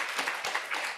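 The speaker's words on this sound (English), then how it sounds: "Round of applause." Brief audience applause at a campus event, a steady wash of many hands clapping at moderate level for about a second.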